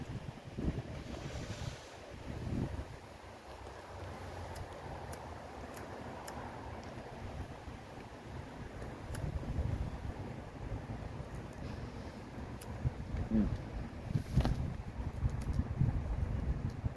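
Swirling wind blows outdoors in a backyard, a steady, rumbling roar of gusts buffeting the microphone for the whole stretch, with no talking.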